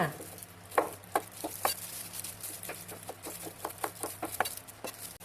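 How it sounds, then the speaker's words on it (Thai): A knife taps rapidly on a cutting board slicing chili peppers thinly, a quick irregular series of light chops close up against a quiet background. "หั่นพริกค่ะ หั่นเป็นชิ้นเล็กๆบางๆนะคะ"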